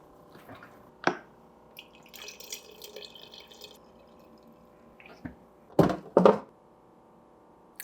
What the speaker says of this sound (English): let me fill my water bottle up.